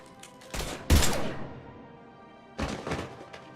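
Gunfire bursts in the video game Mass Effect 3: a short shot near the start, then a loud heavy blast decaying over half a second, a quiet gap, and another burst of shots, with no talking.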